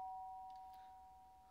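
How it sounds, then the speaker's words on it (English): A soft electronic doorbell chime in the video game Lake rings once, a steady two-tone tone held over a quiet background before fading. "did they ring the doorbell too?"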